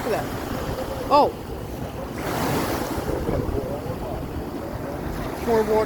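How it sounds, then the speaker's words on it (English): Flood water and waves surge over an inlet and onto land in Manasquan, New Jersey, a steady rushing wash mixed with wind buffeting the microphone, with brief voices over it. "the water's coming over the inlets. It's literally coming up onto land"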